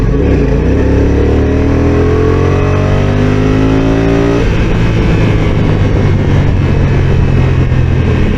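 Honda NT1100 DCT motorcycle from 2022 revving hard under throttle, its engine note climbing steadily in pitch before dropping into a rougher, busier roar, loud and close throughout with no talking.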